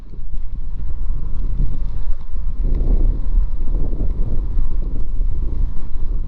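Heavy wind buffeting roars across the microphone while riding a Magicycle e-bike, loud, continuous and gusty, with low rumble throughout and no talking.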